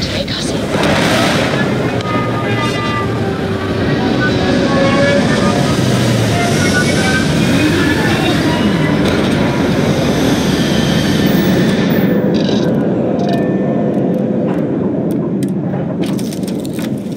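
A spaceship lands in the Starfield video game with a loud, continuous rumbling roar that holds steady and then tapers off near the end.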